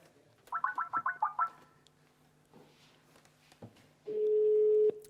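A telephone ringing tone pulses in a quick burst of trills, followed by a steady beep tone after a pause; no talking.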